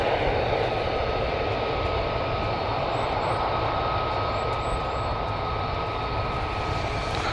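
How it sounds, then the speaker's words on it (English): Military jets at RAF Lakenheath produce a continuous, heavy engine roar that stays loud and steady throughout, a broad rushing drone with no pauses. "can you hear the planes okay?"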